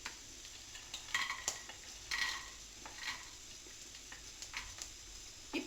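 Cumin seeds and green chilies frying in a pan on a four-burner stove, a steady soft sizzle broken by occasional stirring scrapes and light clinks of utensils against the pan.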